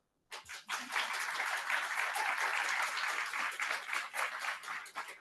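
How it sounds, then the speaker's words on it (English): An audience at a project's closing conference in Murcia breaks into sustained applause for a speaker, steady clapping that holds for about five seconds before tapering slightly. "A great applause for her"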